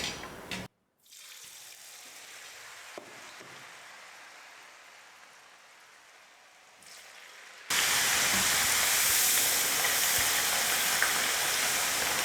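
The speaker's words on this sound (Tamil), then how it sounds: "இப்போ நான் மிக்ஸ் பண்ணி வச்சுருக்கிற உருளைக்கிழங்கை எண்ணெயில் போட்டு பொரிச்சிடுறேன்." Potato snack pieces go into hot oil in a kadai: a low steady hiss first, then a sudden loud, continuous bubbling sizzle as the pieces hit the oil, with no voices.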